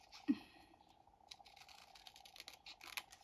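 Paper being cut along a 3 cm fold line for a handmade scrapbook album gives faint, quiet scratchy strokes and small clicks spread across a hushed room, with no talking.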